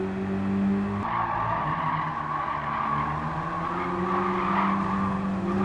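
A lightweight rear-wheel-drive race car at Tsukuba accelerates hard, its engine a loud, close, steady drone that pitches up after a brief dip, with a hint of tire squeal.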